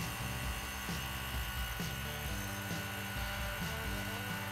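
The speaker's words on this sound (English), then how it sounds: "then turn on the pump" A vacuum pump runs steadily for a wood-stabilizing chamber, a continuous mechanical hum and whir with a layered buzzing drone, close and even in level throughout with no talking over it.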